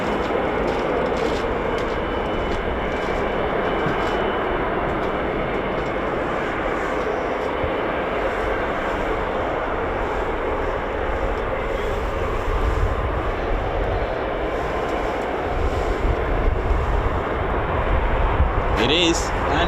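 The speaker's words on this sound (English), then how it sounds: "Sounds like a tanker. Sounds like a KC-135" A KC-135 tanker aircraft at RAF Mildenhall produces a sustained, heavy jet rumble that keeps a constant level, with people talking over it now and then.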